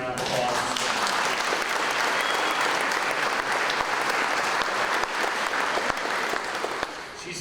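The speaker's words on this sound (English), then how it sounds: "You deserve a round of applause." Sustained applause from a banquet audience at a Kentucky farm-city banquet, a dense, steady wash of clapping that fills the room at even loudness before tapering slightly at the end.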